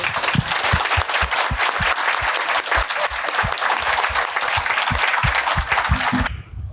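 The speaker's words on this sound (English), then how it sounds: "Can we give them all a round of applause?" Hearty audience applause at a child protection event, dense steady clapping with a few distinct nearby claps standing out, continuing for several seconds before cutting off.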